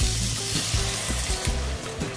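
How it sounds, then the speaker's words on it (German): Tomato paste sizzles steadily in a hot pan for a meatball sauce, a dense close frying crackle with soft stirring scrapes and no voices. "Das brutzelt hier jetzt so ein bisschen."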